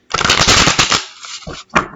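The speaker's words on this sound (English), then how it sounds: "These cards are a little longer than the rest, which means I really have to stretch my fingers to shuffle." Long tarot reading cards are shuffled in quick, crisp riffling bursts, close and loud, with a brief pause before a final short riffle.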